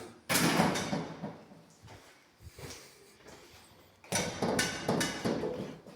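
A door fitted with an electromechanical lock and access-control reader swings shut by itself, giving a loud close and a dull thud near the start, then a second clunk and rattle a few seconds later, with no talk.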